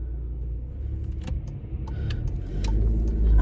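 A car is moved on a blustery day, its engine a low, steady rumble that swells toward the end, with a few faint clicks and rattles inside the cabin and no voices.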